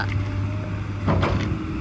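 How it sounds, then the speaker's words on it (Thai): A Komatsu PC200-7 excavator's engine is revved, giving a loud, steady close-up drone with a low humming tone and broad mechanical rumble throughout. "ต้องเร่งเครื่องประมาณนี้ทำงานครับ"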